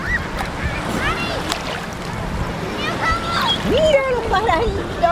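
Birds honk and call over a noisy outdoor backdrop of water and voices, with calls growing more frequent toward the end.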